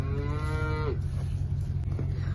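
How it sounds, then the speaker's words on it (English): A single cow in a pen lets out one long moo that fades after about a second, heard over steady low wind rumble with no talking. "Happy cows."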